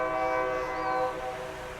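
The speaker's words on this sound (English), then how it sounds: "trains going through." A train horn sounds steadily with strong harmonic tones, fairly faint and distant, holding for over a second before fading as the train passes.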